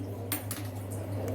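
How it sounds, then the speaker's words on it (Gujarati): A tawa griddle set down on a gas stove while cheese paratha is cooked gives a few sharp metallic clanks over a steady low hum. "અને તાવડી મૂકીશું।"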